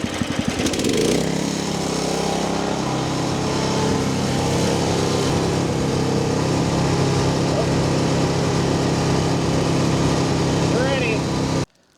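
A small engine driving a snowblower mounted on a UTV runs steadily at full throttle, a loud, even buzzing drone close by that holds for the whole stretch before cutting off abruptly.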